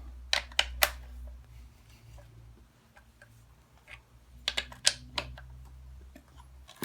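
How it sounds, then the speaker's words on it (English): Bar nuts being tightened on a chainsaw: sharp, close metallic clicks in two short bursts, with quieter ticks between them over a low background hum. "And now I can tighten down these nuts."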